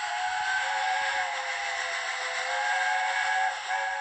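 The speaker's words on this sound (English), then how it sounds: "It's a steam engine that looks and sounds like it hails from another era" A sustained steam whistle from the steam locomotive Tornado on the Bodmin and Wenford Railway in Cornwall blows steadily for several seconds, loud and close, with a hissing steam texture underneath and no talking.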